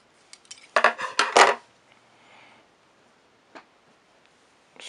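Cotton vape wicking being snipped with scissors, a cluster of quick close crisp cuts followed by a couple of faint isolated clicks in a quiet room.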